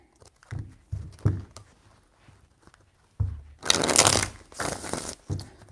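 Tarot cards are shuffled by hand in a few close, crisp riffling bursts, with soft rustles and taps before the louder shuffle.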